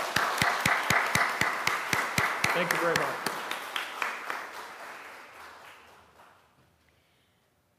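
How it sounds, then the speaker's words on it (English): A church congregation at a Sunday hymn sing bursts into loud, dense applause with sharp regular claps, then gradually thins and fades to silence while a voice briefly speaks over it. "So can we give them a round of applause for that?"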